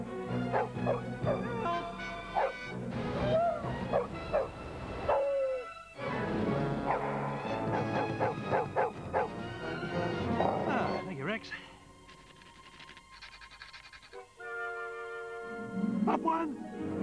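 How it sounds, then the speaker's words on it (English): Cartoon dog character Rex the Wonder Dog barks, yips and whimpers in a 1996 British TV advert for Pedigree Chum Rusk dog chews, mixed with music, voices and a jingle throughout. "Rex the Wonder Dog"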